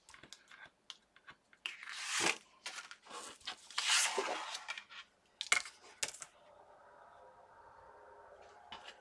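Paper is cut for a die-cut inlay craft piece. Close, bursty scraping and snipping strokes are broken by short clicks and rustles, then a low steady hiss near the end.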